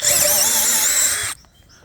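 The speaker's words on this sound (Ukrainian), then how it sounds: "Це, звісно, він не для свердління такого, але що ж, як він з акацією справиться." A small cordless drill-driver strains to push a large auger bit into acacia wood, a loud high whining grind for over a second before cutting out abruptly, leaving faint quiet.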